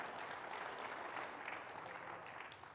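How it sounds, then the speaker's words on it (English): A church congregation at a morning worship service claps steadily for a few seconds, a dense wash of applause that tapers slightly toward the end. "Give the Lord a hand clap of praise"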